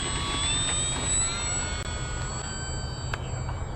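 An E-flite P-51 1.2 m RC model plane flies overhead, giving a continuous, fairly loud motor whine whose pitch slowly drifts.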